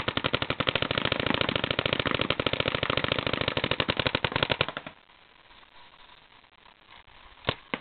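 At a shooting range, a rapid, steady stream of loud gunshots rattles for about five seconds like machine-gun fire, then stops. A single sharp shot follows after a quiet pause.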